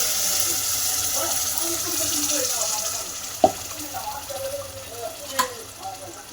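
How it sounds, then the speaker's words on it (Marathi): A ground paste of roasted onion, coconut, garlic, ginger and coriander frying in oil for a spicy mutton curry, a soft continuous sizzle with a couple of sharp clinks from a utensil against the pan. "हे आता मी तेलात टाकून देते"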